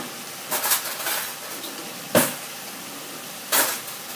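A metal spatula scrapes and clanks against a pan as pork is stir-fried dry over low heat with tamarind chili paste; three distinct scraping strokes stand out over a quiet, faint sizzle.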